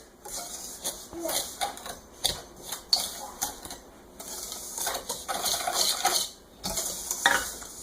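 Brown sugar, cornstarch and salt being stirred together in a bowl, giving repeated scraping and clinking strokes of a utensil against the bowl at close range with a steady, uneven rhythm, with no talk.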